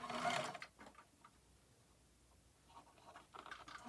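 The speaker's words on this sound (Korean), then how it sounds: "소매 트임 부분의 시접선을 따라서 봉제를 하는데" A sewing machine stitches a seam on a floral cotton blouse sleeve, quick rattling bursts at the start and end with a quiet pause between, faint and close.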